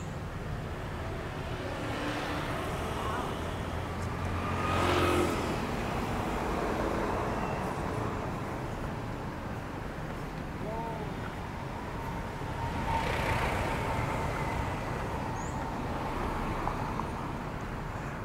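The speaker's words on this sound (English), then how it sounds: "Traffic is starting to pick up." Steady street traffic on a Chiang Mai road in Thailand, a continuous low rumble of passing vehicles with a couple of louder swells as cars or motorbikes go by nearby, under open-air ambience and wind.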